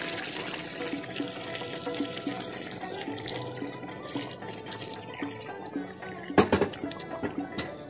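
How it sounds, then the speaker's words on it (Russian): Boiled water is poured into a cooking pot of Uzbek dimlama being made outdoors, a soft continuous trickle and splash with a louder burst of gurgling splashes late on, over light background noise. "Кипяченую воду чуть-чуть налил."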